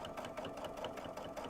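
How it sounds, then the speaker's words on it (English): A sewing machine stitches the fabric of a children's travel pillow, backstitching and then running forward in a steady, rapid mechanical chatter. It is close and continuous, and no voices are heard. "I'm going to stitch a little, back stitch a little, and then I'm going to go forward and just follow"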